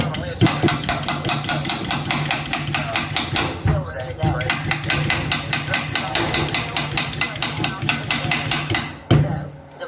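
A knife chops vegetables on a cutting board in quick, steady strokes, cutting at an angle for stir-fry and garnish; close, crisp knocks repeat through the stretch with brief pauses and soft voices underneath.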